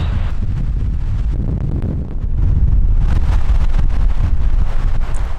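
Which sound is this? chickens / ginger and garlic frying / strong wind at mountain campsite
strong wind at mountain campsite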